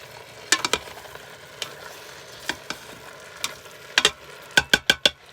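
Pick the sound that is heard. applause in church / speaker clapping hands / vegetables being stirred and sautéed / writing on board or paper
vegetables being stirred and sautéed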